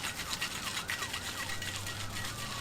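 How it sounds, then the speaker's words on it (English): Emergency sirens wail from the 183 highway, wavering rising and falling tones heard at a distance over a steady background hum, with no voices. "Got some sirens going on again by the highway, 183."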